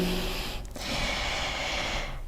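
Steady breathing during a vinyasa yoga flow, a continuous airy exhale-like hiss with a brief break midway, close and fairly loud, no talking.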